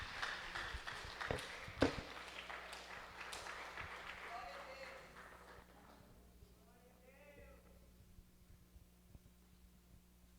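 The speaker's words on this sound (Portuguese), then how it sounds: "Vamos dar uma salva de palmas para Jesus" A church congregation claps during a worship service, a burst of applause that is strong at first and then fades by the midpoint, leaving quiet room tone and a faint murmur of voices.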